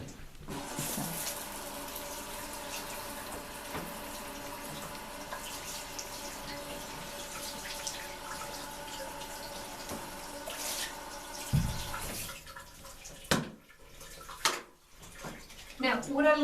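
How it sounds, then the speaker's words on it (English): Water sprays steadily inside a shower for about twelve seconds during cleaning, a continuous hiss of rinsing that then stops, followed by a few clunks and handling sounds. "I'm going to rinse that off"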